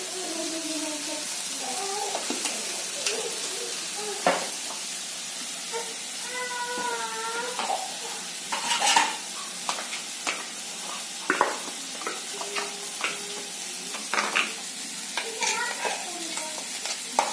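Asafoetida added to hot oil for a dal batti masala sizzles steadily in the pan, with scattered stirring clinks, a brief meow-like squeak and a few clicks over the continuous hiss.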